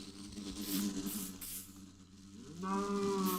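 A Minecraft cow moos in two drawn-out lowing calls, moderately close, over a steady buzzing hum of bees, with no talk.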